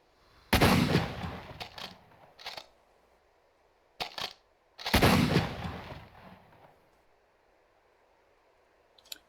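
A WWII rifle fires in the IFA3 Lite mod for ArmA 3: two loud, sharp shots with rumbling echoes a few seconds apart, separated by quieter mechanical clicks and a faint final click.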